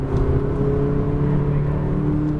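A McLaren 570S on a race track pulls hard under acceleration, its engine a loud, steady, close drone with a rising note.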